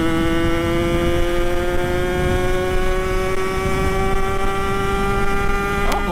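A motorcycle fitted with a cheap type of alloy wheel rim is test ridden, its engine giving a loud, steady, buzzing drone with a constant pitch close by throughout.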